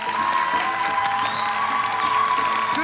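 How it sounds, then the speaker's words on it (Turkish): A studio audience at a Turkish comedy show claps steadily throughout, with some cheering and whoops mixed into the dense, even applause. "Haydi bir alkış!"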